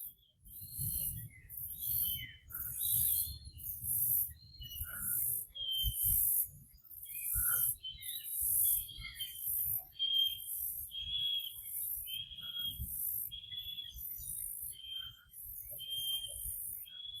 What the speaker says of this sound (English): that bird is crazy